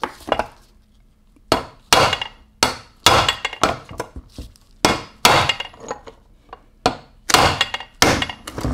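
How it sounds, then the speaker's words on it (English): An aluminum drift driven with a hammer into a T5 non-World Class five-speed transmission case gives a dozen or so loud, sharp metallic blows, irregularly spaced with short pauses, heard up close without talk. "I'm gonna put this aluminum drift in here now while this thing is kind of cooling"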